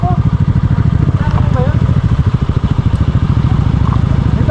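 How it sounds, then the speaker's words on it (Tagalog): A motorcycle engine rumbles close by with a steady, pulsing mid-range drone on a road near Agos River in Infanta, Quezon, loud and continuous throughout. "Ayun po daan dito na motor."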